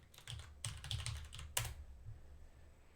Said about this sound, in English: I'm just gonna type it again.